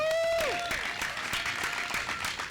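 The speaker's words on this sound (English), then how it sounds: "So let's give a cheer for you." A crowd at a school groundbreaking ceremony bursts into applause as a sustained tone fades. Dense clapping then continues steadily, sounding moderately close.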